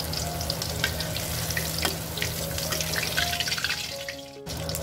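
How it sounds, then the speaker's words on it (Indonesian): Tofu and tempeh frying in hot oil, a steady dense sizzle with faint clatter of stirring, running continuously before cutting off near the end. "Ini kita goreng sampai tahu dan tempenya matang"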